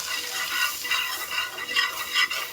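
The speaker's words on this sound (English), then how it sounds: "So now we're going to add in 2 tablespoons of all-purpose flour. Give this a quick whisk." A whisk works flour into melted butter in a pan for a roux, making soft rhythmic scraping and swishing strokes with a faint sizzle underneath, close and steady for a few seconds.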